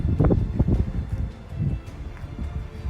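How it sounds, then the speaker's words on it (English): Gusty wind on a hot day near Firebrand Pass in Glacier National Park buffets the microphone with low rumbling bursts, steady and close throughout. "It's hot and windy"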